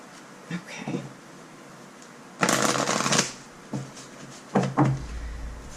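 Oracle cards being shuffled by hand in a quiet room, giving a loud burst of riffling and rustling that lasts under a second, plus a few shorter card flicks before and after.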